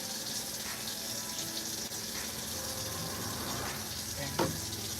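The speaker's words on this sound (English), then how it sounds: "let me stop putting water in here" Tap water pours steadily into a pot for cheesy Italian shells Hamburger Helper, a continuous rushing stream with faint clinks, no talking.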